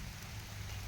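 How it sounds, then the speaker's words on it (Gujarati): Monsoon rain falling outdoors, a steady dense hiss of drops on surfaces, close and constant for under a second with no voices. "વરસાદ વળી પડ્યો છે"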